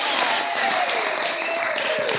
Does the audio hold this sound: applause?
yes